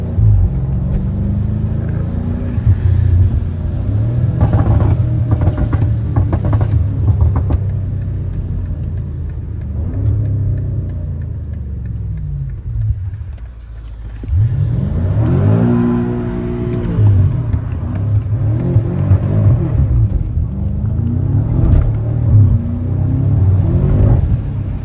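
A BMW M5 Competition drifts, its engine revving loud and close in repeated surges and roaring pulls, with rumbling dips between bursts of acceleration and a strong climb in pitch midway, no talk over it.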